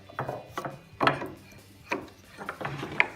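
A hand chisel paring wood from a rail for a bridle joint stool, a series of short scraping and crunching cuts spaced irregularly, close and fairly quiet, with no talking.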